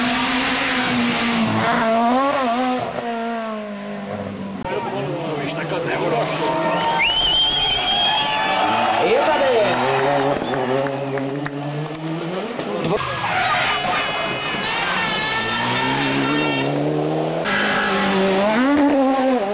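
Mitsubishi Lancer Evo 7 rally car on a stage at Rallye Český Krumlov 2005, its engine revving hard and rising and falling in pitch through repeated gear changes as it passes nearby, with tire noise and a faint crowd.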